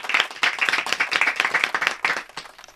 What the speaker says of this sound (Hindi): जोरदार तालियां कैफी साहब की स्मृति में।